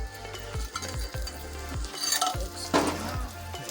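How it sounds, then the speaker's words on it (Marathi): Spiced masala of Malvani masala, garam masala and red chilli powder is sautéed in a pan for a raw cashew nut curry, with repeated scraping stirs over a steady sizzle, close and fairly loud, with no talking. "भाजका मसाला म्हणजे गरम मसाला आणि तिखट लाल तिखट वगैरे मालवणी मसाला टाकायचा आम्ही मस्तपैकी परतून घेतोय"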